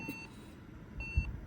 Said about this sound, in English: those error code beeps, depending on what exact model this is